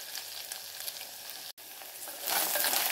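Onions sautéing in a pan for a fish-free curry with a dense, steady sizzle and stirring scrapes, briefly cutting out for an instant before swelling louder and brighter at the end.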